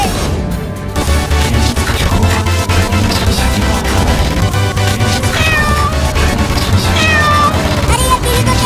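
Cartoon cat meowing repeatedly in loud, drawn-out cries over a busy music and sound-effects track, with the rising wails clearest toward the end.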